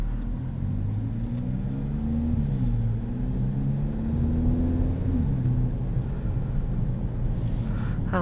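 A 2021 Kia Forte GT with dual-clutch transmission drives along, steady engine rumble and road noise rising and shifting as it accelerates, heard from inside the cabin.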